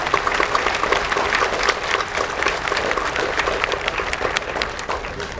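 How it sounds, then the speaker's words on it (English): An outdoor crowd at a bandshell lights ribbon cutting gives a round of applause, loud close-up clapping with sharp individual claps standing out, steady for several seconds before tapering slightly. "So let's give them a round of applause."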